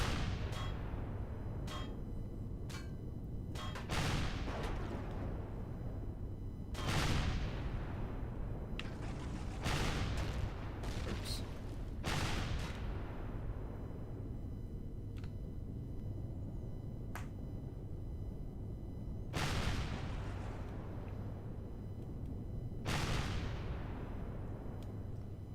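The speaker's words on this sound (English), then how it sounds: "I'm basically firing into the bushes at wherever the guns are coming from." Gunfire from a game, sharp shots fired into bushes ring out one at a time at irregular intervals, each with a decaying echo, over a low steady ambient rumble.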